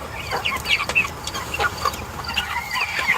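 Backyard chickens cluck in short, irregular bursts while pecking at cooked potato, carrot and bread scraps, several birds close by with a steady low background hum.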